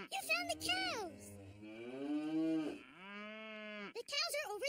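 Two long, deep cartoon cow moos from a barn follow each other closely, loud and near, with a short higher call just before them and another at the end.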